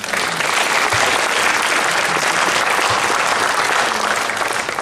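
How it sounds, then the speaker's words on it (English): A conference audience applauds a panel at an international press, entertainment and technology show, with dense, sustained clapping at a steady level throughout and no voices over it. "please join me to applaud the panel"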